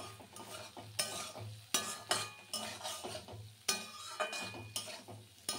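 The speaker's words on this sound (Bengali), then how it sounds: "ডিমটা দেওয়ার পরে কিন্তু পুরোটা একসঙ্গে মিলিয়ে আবার একটু ভেজে নিতে হবে।" Pahadi-style Maggi noodles with egg are stirred and fried in a pan, with repeated close scraping strokes of a spatula in an uneven rhythm over a soft sizzle and occasional light clinks.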